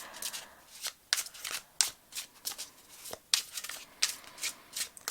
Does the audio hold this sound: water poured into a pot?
no